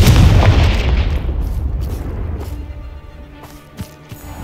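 Confringo fire spell blast in Hogwarts Legacy: a loud, deep explosion at the start that rumbles and fades over a few seconds, followed by faint scattered crackles.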